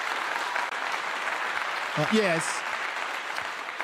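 A steady wash of applause sound effect plays continuously, loud and even throughout, with a man's brief spoken word over it.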